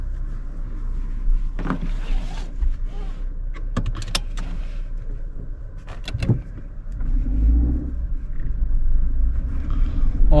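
Suzuki Jimny heard from inside the cabin while climbing a high-altitude mountain road in Ladakh, loaded with luggage and three occupants: a steady low engine and road rumble with scattered rattles, clicks and knocks, growing louder toward the end.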